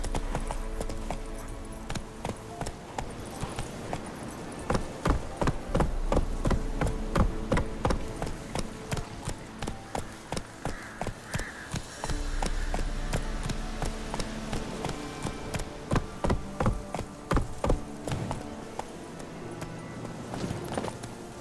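Galloping hooves of the horse Roach in The Witcher 3, a fast, rhythmic clip-clop of hoofbeats that continues steadily throughout, loud and close over a low ambient game backdrop.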